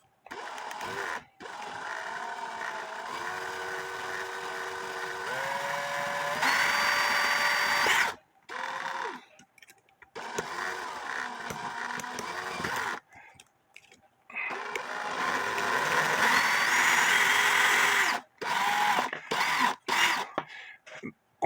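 Power drill spinning a bent cuckoo clock wheel while smooth-jaw pliers squeeze it, a whirring motor that rises in pitch in steps, cut by pauses and restarts in several separate bursts.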